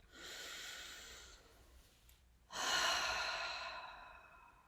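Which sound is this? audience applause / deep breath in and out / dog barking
deep breath in and out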